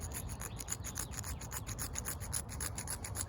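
A small scraper rasps against a magnesium fire-starter block in quick, soft, repeated strokes, a faint and steady dry rubbing with no voices.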